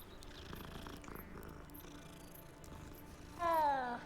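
A cat in the Hogwarts Legacy video game purrs while being petted, a low steady rumble through most of the moment, ending in a short, louder rising meow-like cry near the end, with no talk.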